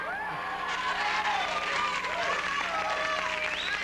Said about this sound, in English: according to your applause, a darn good one